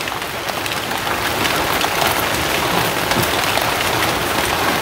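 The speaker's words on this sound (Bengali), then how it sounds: "অন্তত বৃষ্টির অবস্থা তো ভয়াবহ।" Heavy rain pours steadily on surfaces in a village, a dense, even hiss with patter of drops, loud and unbroken with no voices.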